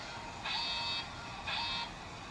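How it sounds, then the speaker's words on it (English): Two identical electronic beeps from an iSwimband drowning-prevention wristband alarm going off poolside, each about half a second long and a second apart, clear over steady background hiss. "realizes they're underwater for a certain amount of time, and then sounds this alarm"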